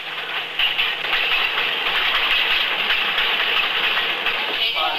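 A steady rumble and rattle of a Festiniog Railway train drawing slowly into a mountain station platform nearby, with a constant hiss and clatter over the whole stretch.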